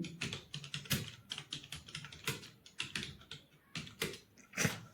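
Rapid, continuous typing on a computer keyboard during Hindi typing practice, crisp key clicks close to the mic in an uneven but steady rhythm with no pauses or talk.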